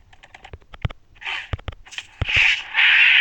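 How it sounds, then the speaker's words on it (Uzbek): Several short crow caws ring out in quick succession among sharp clicks in a Minecraft game, followed by a sustained noisy hiss toward the end. "Qarg'a, bu ham qarg'a."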